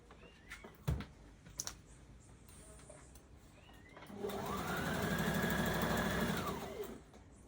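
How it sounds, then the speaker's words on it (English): A sewing machine stitches a skirt, fitted with a zipper foot: a few soft handling clicks and taps, then a steady motor whir rises, runs for about three seconds with a rapid stitching rhythm, and winds down, close and moderately loud. "Continue sewing. Remember to remove your pins."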